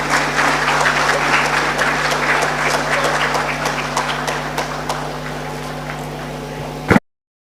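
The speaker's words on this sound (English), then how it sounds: "he deserves a round of applause for that" An audience at a business networking event in Goa applauds steadily, many hands clapping in a dense, continuous patter that slowly thins before cutting off abruptly.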